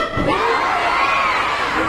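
A dense crowd at a Philippine political rally for a vice-mayoral candidate shouts and cheers continuously, loud and close, a sustained roar of many voices.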